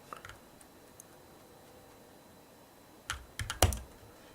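Computer keyboard clicks while playing the game Factorio with an industrial revolution mod: a few sparse taps early, then a quick burst of sharper, louder keystrokes near the end, close and dry against a quiet background.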